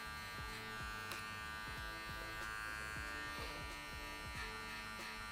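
Electric hair clipper buzzing steadily and continuously through a V-fade haircut at a barbershop, a close, constant hum with small rhythmic shifts as the blade is flicked upward through the hair.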